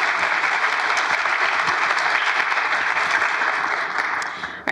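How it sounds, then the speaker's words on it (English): A room of attendees at a tech meetup on accessibility applauds for the two presenters, a loud, even wash of clapping that holds steady before tapering off at the end. "can we have a round of applause for the Jenns?"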